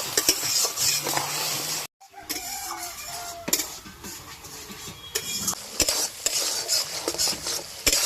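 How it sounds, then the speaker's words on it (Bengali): Spice paste with turmeric and Kashmiri chili powder fries in oil for a fish curry, a close hissing sizzle with frequent spatula scrapes and clinks against the pan, a brief silent break near the start. "তো এইভাবে আরো 2 মিনিট ভালো করে মশলাটা কষিয়ে নেব।"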